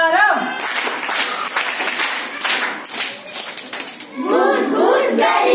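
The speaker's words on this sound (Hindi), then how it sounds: "चलो सब लोग एक साथ गुड ताली प्रारंभ।" Children in a classroom clap together in a rhythmic 'good clap' pattern, a run of crisp, quick hand claps close by, with an adult voice speaking just before and after.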